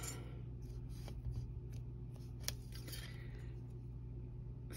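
A knife or blade slicing into a thick block of polymer clay, made to look like faux chrysocolla stone, giving soft scraping and scratching strokes over a loud steady low hum, no talking.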